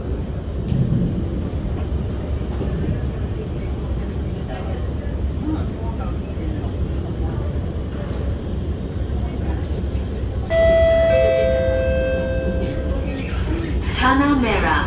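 An R151 MRT train running from Bedok toward Pasir Ris rumbles loudly. A harsh, high, wavering metallic screech rises near the end, and people talk over the noise.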